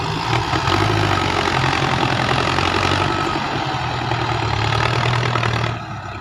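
A heavy tractor engine idles steadily and loudly with a low rumbling throb, then drops slightly in level near the end.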